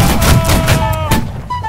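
Infantry line fires a volley in a chaotic video game, sharp cracks of gunfire with a couple of broadband bursts over a steady music bed.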